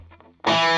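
Electric guitar played through a Klon overdrive pedal into a Fender Deluxe Reverb amp with a Greenback speaker, a faint note before a loud, sustained, honky overdriven chord rings out.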